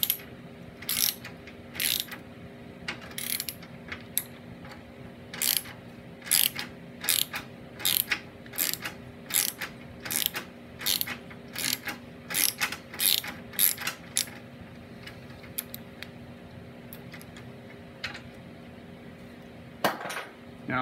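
A wrench ratchets a bolt loose on a Snapper riding mower's steering rack, a close series of crisp metallic clicks in uneven bursts with short pauses, no talking.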